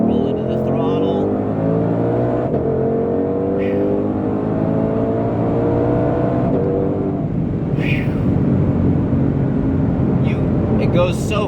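A 2020 Shelby GT500 rolls into the throttle, its engine note rising steadily and loudly over about ten seconds while a voice talks over it.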